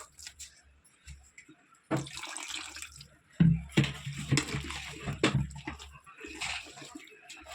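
Water trickles and splashes into a bowl of flattened-rice idli batter while it is stirred, with soft sloshing, scraping and a few bumps over several seconds.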